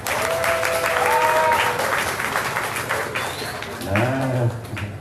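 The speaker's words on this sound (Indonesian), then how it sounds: "Ayo tepuk tangan lagi." Audience applause fills a religious book-study gathering, steady and fairly close, with a voice talking over the clapping.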